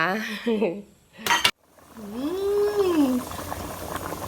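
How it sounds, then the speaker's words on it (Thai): Bamboo shoot curry boils in a pot in a rural kitchen, a steady bubbling hiss that follows a brief clatter of utensils, with a short tonal squeal rising and falling over the simmer. "กำลังเดือดได้ที่เลยค่ะ แกงหน่อไม้ของป้าค่ะ"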